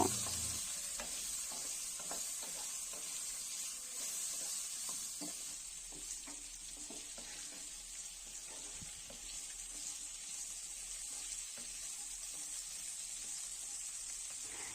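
Potatoes with green chilies, salt and turmeric frying in a kadai, stirred now and then; a quiet, continuous sizzle with intermittent scraping and clicking from the stirring, no voices.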